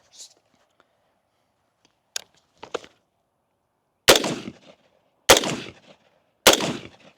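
Suppressed PWS MK111 Mod 2-M rifle fitted with a Gemtech Halo suppressor, three sharp muffled cracks spaced about a second apart with short decays, loud and close, preceded by faint handling clicks.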